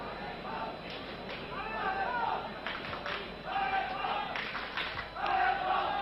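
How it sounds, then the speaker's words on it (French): Supporters in the stands at a 1969 World Cup qualifier between Norway and France, played in Norway, raise scattered chants and shouts that rise and fall behind a commentator's steady speech. "Et l'on entend quelques allez France car de nombreux supporters sont venus encourager les tricolores"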